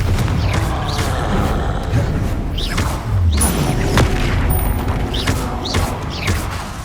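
Confringo explosion spell blasts in Hogwarts Legacy, repeated booming thuds and whooshes amid steady loud combat noise, several bursts spaced across the clip.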